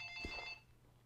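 A telephone rings once in a room, a short electronic trill at low volume that cuts off after about half a second, followed by quiet hum.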